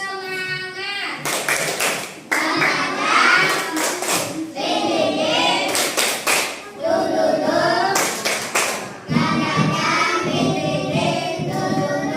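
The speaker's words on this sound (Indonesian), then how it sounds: "coba bersemangat yuk," A class performs the tepuk semangat clapping chant, with bursts of rhythmic group clapping broken by chanting children's voices, loud and close, several clap sequences in a row.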